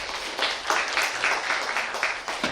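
An audience at a World Space Week special lecture claps to welcome a speaker onto the stage, moderately loud rippling applause with uneven surges over a couple of seconds.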